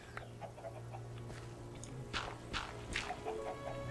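A Minecraft chicken clucks in short soft bursts amid faint game ambience and low background hum, several clucks spread across the moment.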